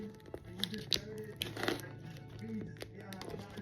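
A taped baklava package being torn open by hand, giving resisting crinkly tearing and crumpling bursts close by, with a few sharper rips, while a person talks over the handling.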